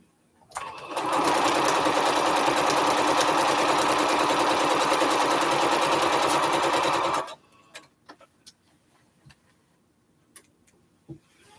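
A sewing machine stitches quilt strips together for a Triple Irish Chain quilt, running loud and steady for about six seconds before stopping, followed by a few faint clicks and handling taps.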